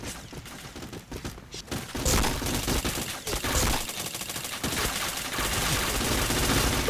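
Rapid video game gunfire in a multiplayer shooter, with dense bursts of automatic shots and thuds that grow louder and almost continuous in the second half.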